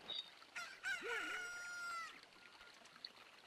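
A rooster crows once in a video game, a bright, fairly close cock-a-doodle-doo lasting about a second and a half with a few brief clucks around it, heard alone with no talking.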